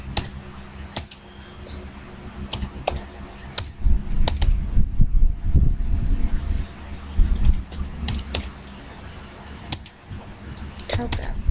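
A computer keyboard typed in steady clicking bursts while code for a button is entered, the keys sharp and close, with a voice talking underneath now and then.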